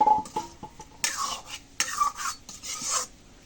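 Leafy greens being stirred in a cooking pot, a few short scraping and rustling strokes of a utensil against the pot, close by with brief pauses between them.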